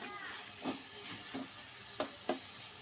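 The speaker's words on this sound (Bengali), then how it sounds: "পেঁয়াজটাকে দিয়ে খুব নাড়াচাড়া করে একটু লাল করে কিন্তু ভেজে নেব।" Chopped onion frying in a pan, with a steady low sizzle broken by a few brief scraping stirs of a spatula, close and fairly quiet.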